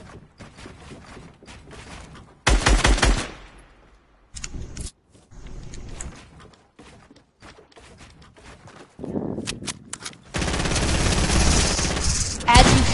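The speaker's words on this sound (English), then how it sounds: "You just shot me down with an SMG." Rapid automatic SMG fire in a video game, coming in several loud bursts and sustained volleys between gaps, with players talking over it.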